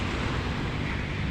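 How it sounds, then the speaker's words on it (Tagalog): Choppy sea waves in Manila Bay churn in a close, steady rush with heavy wind buffeting the microphone, with no distinct breaks. "At ito ang ating karagatan, medyo maalon-alon lang"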